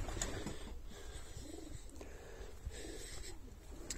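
Young racing pigeons on the last flight of the 2021 season come home to the loft. Soft bird calls and wing sounds rise faintly through steady background noise.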